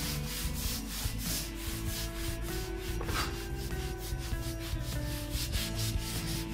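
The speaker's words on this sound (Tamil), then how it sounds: "நான் லேசா அப்படியே துணிய போட்டு ரப் பண்றேன்" A cloth rubbed back and forth over greasy kitchen tiles gives a steady, rhythmic scrubbing swish, close and fairly quiet, with no voices.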